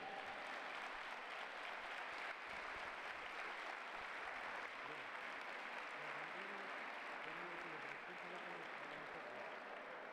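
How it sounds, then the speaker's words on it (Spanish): Crowd applause for Leonese wrestling team competitors, a dense, steady clapping roar heard faintly, with an announcer's voice speaking over it. "Ese aplauso para los competidores que están ya impacientes por entrar en acción"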